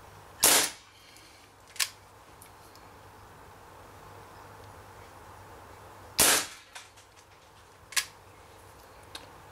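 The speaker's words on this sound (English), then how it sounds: "the CO2 canister is getting at the end, getting empty, so this will be the last 6 shots" A Dan Wesson 715 CO2 pellet revolver in .177 calibre with a 2.5-inch barrel, its gas canister running low, fires sharp close pops, each followed by a fainter pellet strike on a can, with four main shots.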